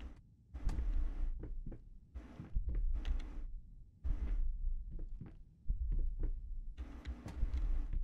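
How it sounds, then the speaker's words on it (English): A loud, low beating heart in the horror video game Layers of Fear, heavy rhythmic thumping pulses in repeated clusters with short gaps between them, heard alone without talk. "Is the heart beating faster?"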